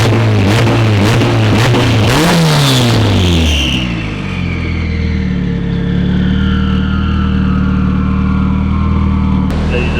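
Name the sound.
turbo K-series engine in Toyota FRS starting and revving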